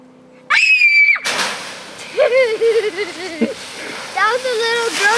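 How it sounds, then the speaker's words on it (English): A little girl screams from some distance down the street, a sustained shrill cry followed by a child's and others' voices talking and calling nearby outdoors in the leaves. "That was a little girl that screamed all the way from over there."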